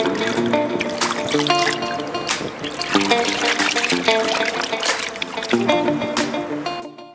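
Water streams over an Oppo Reno2 phone during a waterproof flush test, a continuous splashing and trickling rush that fills the clip before cutting off abruptly at the end, with background music underneath.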